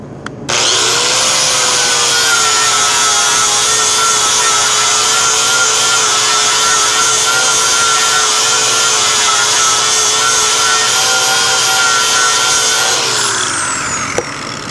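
A grinder bites into the metal of a Chevelle frame in one long, loud, continuous whine that spins up, holds steady for about twelve seconds, then winds down.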